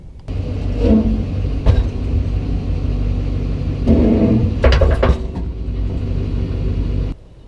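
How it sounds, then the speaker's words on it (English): A pickup truck reverses to hitch a Corinth RV fifth-wheel trailer, giving a steady close engine rumble for about seven seconds with a few clunks partway through. "all we need to do is back up the truck and it's going to lock in"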